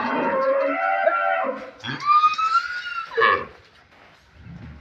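A cow on the Bhai Bhai Agro Farm in Setabganj, Dinajpur, moos loudly and close by, a long low call followed by a second rising bellow, then only faint farm background.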